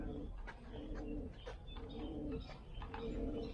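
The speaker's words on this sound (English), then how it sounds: "The pigeons." Pigeons coo in soft, repeated low throaty phrases at the Sukhothai Historic Park in Thailand, steady across the clip amid light outdoor background noise and occasional faint chirps.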